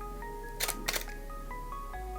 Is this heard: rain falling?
no